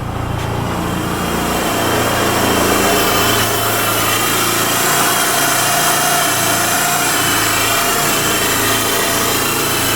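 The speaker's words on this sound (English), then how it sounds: "So I put the fuel pump back in, turned the key and she fired right up." A 1995 Eagle Summit Wagon engine running steadily just after its fuel pump was reinstalled, a loud continuous idle with a high-pitched whine, heard alone and close for the whole stretch.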